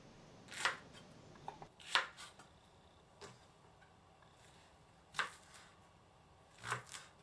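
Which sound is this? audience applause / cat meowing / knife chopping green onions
knife chopping green onions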